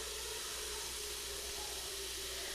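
Tap water pours into a pot being filled for boiling pasta, a steady, fairly faint rushing hiss that runs unbroken throughout.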